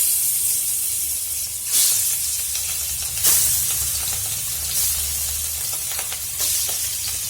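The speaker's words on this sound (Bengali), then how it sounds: "মাছ ভেজে উঠে নিয়েছি।" Rohu fish pieces coated with turmeric, salt and chili powder fry in hot oil, giving a steady, close sizzle with louder hissing bursts every second or so, and no talking.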